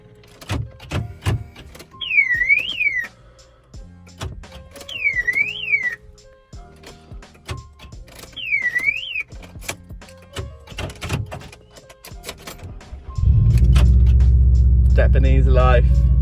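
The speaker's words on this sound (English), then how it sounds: "I'm going to pull my car into my driveway" A Subaru on a windy day near a home driveway: doors clunk, and several chirping lock beeps repeat, then the engine starts and settles into a loud, steady idle at the end.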